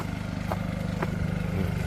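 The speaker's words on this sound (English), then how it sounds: "We got the generator going back here." A gas generator runs behind a yurt during an ice storm, a steady close engine drone with a few faint clacks and knocks over it, and no voices.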